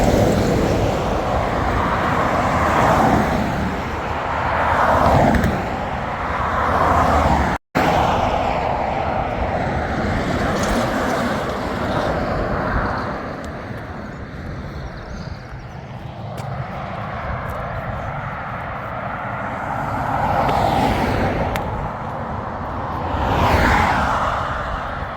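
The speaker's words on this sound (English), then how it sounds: "Ooh, wagons!" Heavy lorries roll past one after another on the busy A66, each a swelling roar of engine and tyre noise that rises and falls in waves over a continuous traffic drone.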